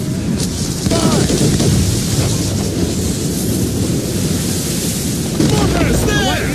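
Cannon and mortar fire in an Assassin's Creed Rogue naval battle, heard as a continuous loud rumbling barrage with heavy booming thuds throughout and shouted voices over the din.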